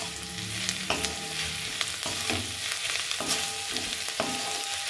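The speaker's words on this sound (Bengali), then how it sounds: "পেঁয়াজগুলো ভাজা হচ্ছে, পেঁয়াজের মধ্যে আমি একটু লবণ যোগ করে দিয়েছি" Sliced onions with a little salt frying in hot oil for an egg curry, a steady close sizzle broken by several sharp scrapes and taps of a spoon stirring against the pan.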